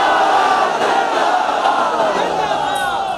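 A large outdoor rally crowd chants a religious slogan in unison at Jinnah Bagh, Larkana, a loud, dense roar of many voices sustained throughout.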